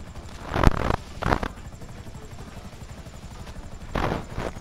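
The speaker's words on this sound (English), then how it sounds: "Helicopter, helicopter." A helicopter in GTA Online produces a steady rotor and engine drone, with sharper bursts of noise rising over it near the start and again near the end.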